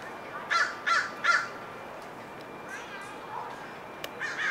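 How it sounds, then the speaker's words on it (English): Several crows caw in a quick run of three harsh calls, then softer scattered calls follow at a moderate distance in an outdoor setting in Marin. "These crows have a lot to say about it."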